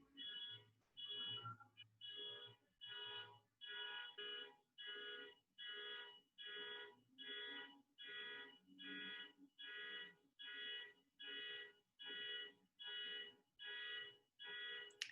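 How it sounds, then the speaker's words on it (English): A faint car alarm outside beeping in a steady repeating pattern, about one pulse per second, distant and continuous. "Car alarm outside."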